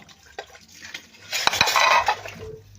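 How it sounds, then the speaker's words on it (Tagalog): Plates and cutlery clink and clatter at close range during dishwashing, with sparse knocks at first, then a busier burst of scraping, rattling metal and ceramic, and no talking. "Maghuhugas muna ako ng plato"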